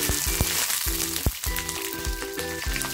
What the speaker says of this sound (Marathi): आता ही लसूण आणि मिरची तेलामध्ये टाकते